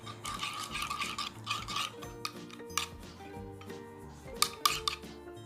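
Homemade slime being stirred in a bowl as activator is added, giving repeated sticky scraping and clinking strokes of the utensil, close and steady, with louder squelching clicks near the end.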